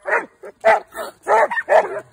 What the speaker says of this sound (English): That's your hound dog.